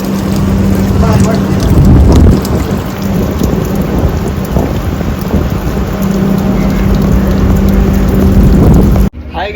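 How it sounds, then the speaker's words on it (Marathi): Steady, loud rain pours outside a houseboat in Alleppey, Kerala, a dense continuous hiss with low rumbling beneath, and people talk over it throughout. "तुम्ही बाहेर बघा, आता इथे पाऊस पडतोय"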